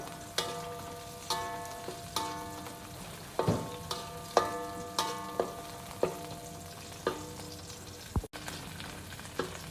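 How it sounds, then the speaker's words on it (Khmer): Shallots fry in hot fat alongside garlic, stirred with a utensil that strikes the pan in regular clinks about once a second over a soft continuous sizzle. "ដាក់ខ្ទឹមក្រហមចូល"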